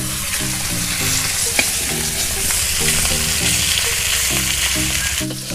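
Large tempo fish pieces frying in hot oil, giving a loud, steady sizzle with rhythmic stirring and scraping in the pan, continuous throughout with no voices.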